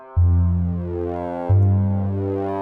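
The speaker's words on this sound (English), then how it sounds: "That is what splitting a sine wave up sounds like" Synthesizer sine wave split up with wavetables in Bitwig, two sustained electronic tones each starting abruptly with a stack of steady harmonic partials, the second entering at a new pitch partway through, clean and alone with no voices.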